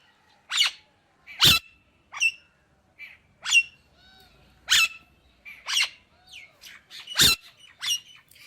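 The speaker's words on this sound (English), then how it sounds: "The loud green barbet with the brown head is observed on tree tops, calling to attract mates." A brown-headed barbet calls from treetops in Delhi, a series of loud, sharp squawking notes repeated at irregular intervals, with softer chirps between them against a quiet background.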